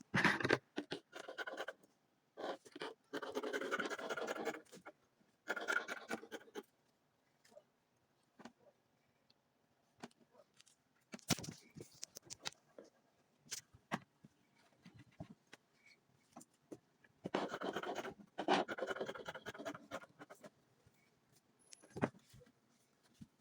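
Scissors cut fabric for a front twist bubu in a quiet room, with bursts of scratchy, snipping strokes separated by silent gaps, close and fairly soft, with no voices.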